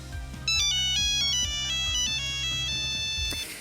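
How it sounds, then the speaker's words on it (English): A classic mobile phone ringtone plays a bright, beeping synthesized melody over a repeating beat, loud and close, with no talking. "It's the old school ringtone."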